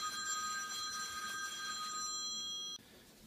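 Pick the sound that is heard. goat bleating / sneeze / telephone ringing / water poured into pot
telephone ringing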